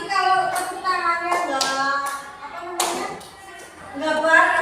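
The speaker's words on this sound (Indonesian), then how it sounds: "Yang putri pakai tepuk tangan" Girls clap their hands together in rhythm, a series of sharp close claps in a loose beat, mixed with children's voices talking throughout.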